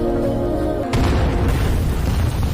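A loud, sudden explosion bursts in about a second in, followed by a heavy rumbling roar that sustains to the end.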